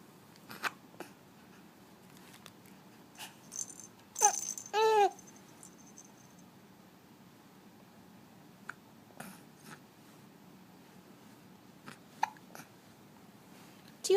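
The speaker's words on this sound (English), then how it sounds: "Do you have the hiccups?" An infant hiccups a few times, small soft hiccups scattered across quiet room sound, with a brief louder cluster of squeaky baby vocal sounds partway through.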